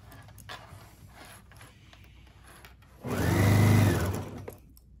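A serger stitches a fabric seam on sleep shorts in one loud burst of rapid whirring lasting about a second and a half, with quieter handling noises before it.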